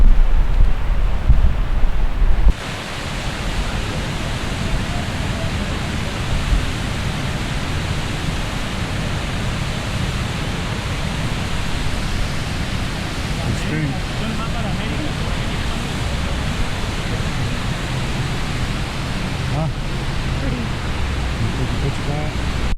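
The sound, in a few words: Gibbon Falls waterfall cascade in Yellowstone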